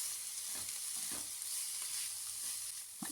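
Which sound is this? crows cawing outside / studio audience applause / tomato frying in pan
tomato frying in pan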